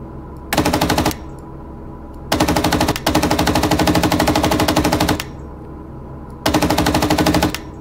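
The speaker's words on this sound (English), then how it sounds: "let's see here if I can switch to the machine gun." A vehicle-mounted machine gun in the PC game Gunner, HEAT, PC! fires in three loud sustained rapid bursts separated by short pauses, each burst a dense, even rattle of shots.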